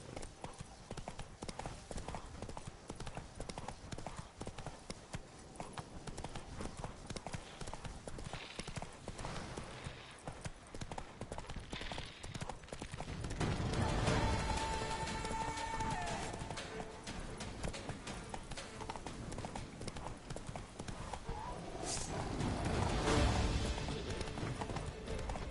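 Roach, a horse in The Witcher 3, clip-clops along with steady, close hoofbeats at a trotting rhythm, growing louder in two surges near the middle and the end, with no talk over it.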